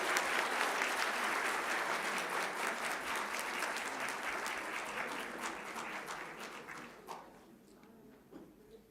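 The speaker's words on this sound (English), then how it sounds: "Give a big round of applause to all of them." Sustained applause from a convocation audience honouring PhD recipients, a dense, steady wash of many hands clapping that fades and thins toward the end, leaving a few scattered claps.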